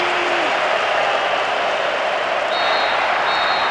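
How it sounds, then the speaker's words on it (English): A crowd roaring at the final whistle in the football game Winning Eleven 2009, a dense, steady wall of cheering and applause that stays loud throughout, with a whistle-like tone briefly at the start. "The referee ends the game, and there's a huge roar from the crowd."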